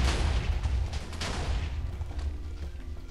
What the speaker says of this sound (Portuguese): Eu tô de cara com tanto de TNT que tá explodindo.